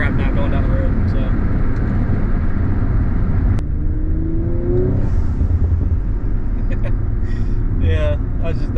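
An Audi RS5 with an 034 Motorsport Stage 1 package accelerating hard, heard as a loud, roaring engine with a rising pitch and heavy, constant road and wind noise.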